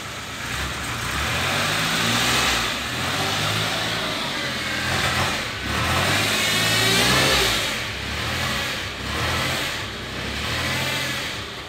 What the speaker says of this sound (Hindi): बिल्कुल साउंडलेस और स्मूथ इंजन है।